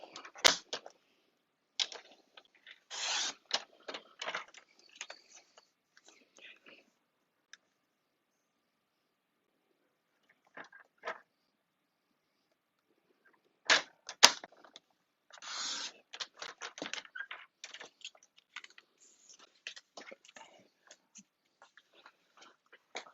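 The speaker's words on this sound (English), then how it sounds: "I'm going to bring my trimmer back in, and I'm going to do exactly the same thing, but I'm going to cut along" A paper trimmer slices mint cardstock along a pencil line, giving scattered bursts of crisp scraping and clicking, with a long quiet gap in the middle, all faint and close with no voices.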